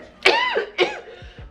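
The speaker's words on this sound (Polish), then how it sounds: "jak nagrywam, to mnie zawsze łapie kaszel" Two sharp, harsh coughs in quick succession, close and fairly loud, with no talking.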